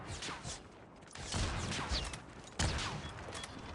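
Rapid bursts of video game gunfire from Call of Duty Mobile crackle and thud in quick succession, loud and close, with a sharp blast partway through.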